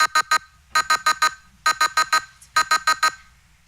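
A speaking timer at a public budget hearing beeps in quick bursts of three or four loud, sharp electronic tones, repeated four times in a steady pattern with no talk over it.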